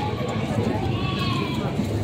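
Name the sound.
goats bleating while being loaded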